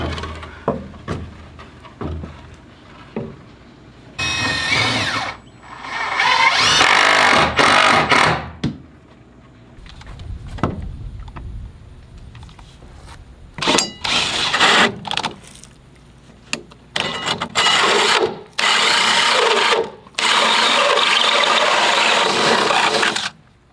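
Power drill driving structural screws into wood while reinforcing a cast iron sink stand, heard as repeated loud whirring bursts of varying length separated by short pauses.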